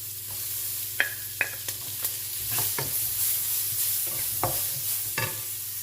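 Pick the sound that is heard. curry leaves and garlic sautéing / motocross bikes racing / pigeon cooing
curry leaves and garlic sautéing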